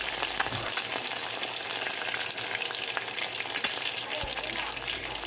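An egg fries in a pan with a dense, steady sizzle and crackle that continues throughout, punctuated by a few faint utensil clicks, close and fairly loud with no voices.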